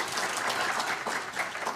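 Audience applause at a NAMI Walks kickoff event, a steady dense clapping from a crowd that fills the whole stretch at an even, fairly loud level with no speech over it.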